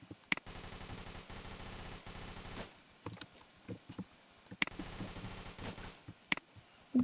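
Roblox shooter gunfire: bursts of rapid shots with a few sharp louder cracks, clattering on and off in short volleys with gaps between, fairly close and moderately loud, with no talking.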